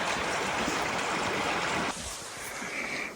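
River water flowing outdoors in the Utah wilds, a steady broadband rush that is loud at first, then drops to a softer, thinner flow after about two seconds.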